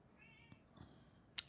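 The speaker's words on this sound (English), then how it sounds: "I don't know if you can hear my cat complaining." A house cat meows in complaint: a few faint, drawn-out cries with quiet gaps between, followed by a short sharp noise near the end.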